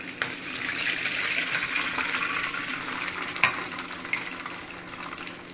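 A glass of water poured into a hot pan of sputtering mustard seeds and green chillies for dhokla tempering, giving a steady close hiss and sizzle with watery splashing that holds for several seconds, with a few sharp clicks.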